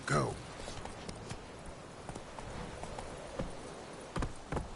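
Roach the horse galloping in The Witcher 3: Wild Hunt, with quick hoofbeats thudding under a brief voice at the start, moderately loud, plus a couple of sharper hoof strikes near the end.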